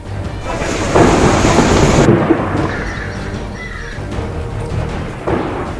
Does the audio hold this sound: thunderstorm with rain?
yes